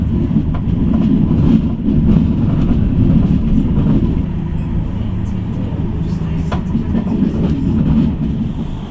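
Manchester Metrolink tram travelling on the Altrincham line toward Dane Road, a loud low rumble and hum from inside or near the vehicle with faint clicks, continuous for several seconds.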